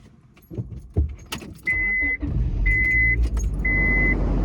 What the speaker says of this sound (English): Let me show y'all the sound of the car.